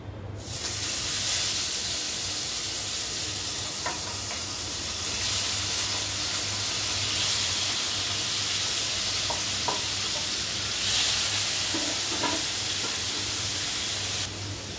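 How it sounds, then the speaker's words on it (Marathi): Paneer fries in hot oil with a steady, close hiss and sizzle that runs throughout, broken by a few small pops and spatters, and no talking. "इकडे आपलं तेल तापलं आहे, त्यामध्ये आपण घालूया पनीर"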